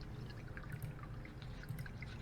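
Water trickles and splashes steadily from a small waterfall in an indoor goldfish pond, a close, continuous pouring patter with no voices.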